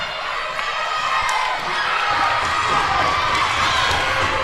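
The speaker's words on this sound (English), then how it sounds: "Here comes the crowd." Loud indoor crowd cheering and shouting at a high school volleyball match, senior night, Franklin at Smoky Mountain, a sustained roar of voices filling the gym right after a big block ties the game.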